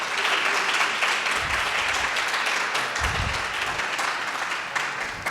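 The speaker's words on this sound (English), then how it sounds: "Let's give the Harn a round of applause." Audience applause for the Harn Museum before a theatrical performance, a full, even roar of many hands clapping that holds steady for several seconds.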